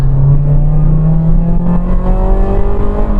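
A Ford Fiesta ST150 engine pulls hard on a road, its steady rising drone climbing in pitch as the car accelerates, loud and close throughout.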